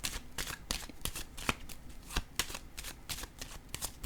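Tarot-style cards are handled, shuffled and laid down during a card reading, with a quick series of close crisp flicks and soft slaps in an uneven rhythm, without talking.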